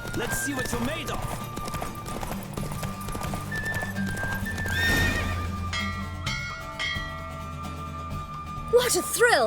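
In The Witcher 3, a racing horse gallops with steady pounding hooves, then a loud whinny and snorting neigh rise near the end over game music and a bell-like tone.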